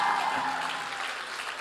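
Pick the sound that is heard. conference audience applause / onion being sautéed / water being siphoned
conference audience applause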